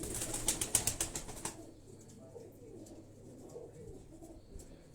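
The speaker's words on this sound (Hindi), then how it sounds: "ये छत वाले कबूतर हैं, बड़े प्योर कबूतर छत वाले।" Rooftop Aseel pigeons coo faintly in the background, while a rapid flutter of wing claps dominates the first second and a half before fading into a low, steady ambience.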